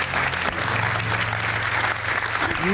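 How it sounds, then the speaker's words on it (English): A game show studio audience gives slow, reluctant applause, a steady patter of clapping over a low background hum, moderately loud throughout. "Reluctant, very tardy applause there."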